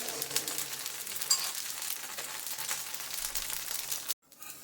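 Buttermilk dosa frying in a little oil on a pan, giving a soft, steady sizzling hiss that runs evenly for about four seconds and then cuts off abruptly into near silence.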